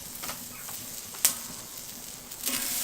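Green peppers sizzle in sunflower oil on a plancha set over a Weber kettle BBQ, a quiet, steady frying hiss broken by a few sharp pops and crackles.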